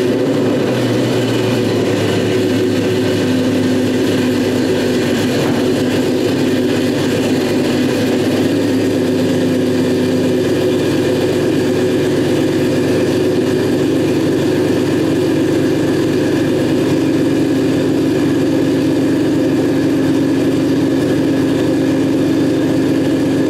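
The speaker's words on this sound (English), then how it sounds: "I'm gonna go and start up the Jeep, and we should be able to see the RPM and all the other stuff go up." A Jeep engine starts and settles into a steady idle, a continuous low drone with a faint hum that holds evenly for over twenty seconds, with no talking.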